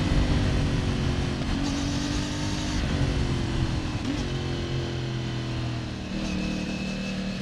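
CF Moto MT450 motorcycle ridden through curves, its engine droning steadily and close with shifting pitch as it leans through bends, with strong wind rush over the whole stretch.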